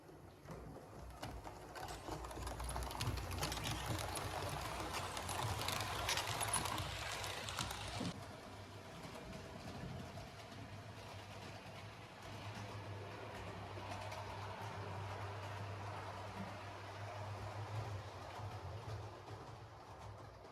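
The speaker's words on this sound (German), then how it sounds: "Und jetzt wird der Zug los." A model train sets off along a model railway track, giving a faint, steady mechanical hum and light rolling clatter that carries on alone with no talk.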